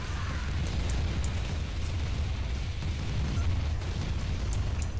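Tanks being destroyed in Command & Conquer Remastered, a real-time strategy game, rendered as a dense, continuous roll of low rumbling booms and blasts that stays loud and steady throughout.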